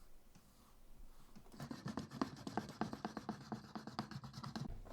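A leather edge is sanded and finished by hand: after a quiet start, rapid rhythmic scraping strokes rub back and forth close up, fairly faint, with no talking.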